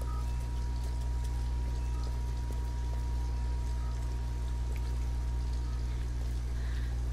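Rain falls outside in the video game Detroit: Become Human as a faint, even patter under a steady low hum, unchanging throughout.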